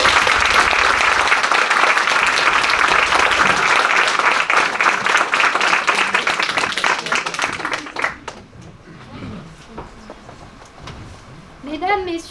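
A large audience at an eloquence contest applauds loudly and continuously, then the clapping thins and fades out toward the end.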